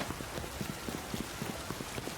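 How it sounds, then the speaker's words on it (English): Rain patters outdoors, faint and soft, with a steady hiss and a loose rhythm of small taps recurring through the moment. "Oh, it's raining."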